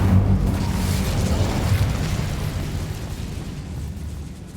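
An Incendio fire spell bursts in Hogwarts Legacy, a loud dense rushing roar of flame that holds steady and then gradually tapers off.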